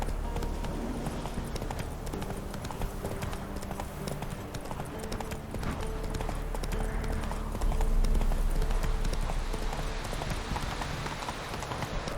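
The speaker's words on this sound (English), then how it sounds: "Run, Roach." Roach the horse galloping in The Witcher 3, with steady rhythmic clip-clop hoofbeats running throughout at a constant pace under a low game ambience.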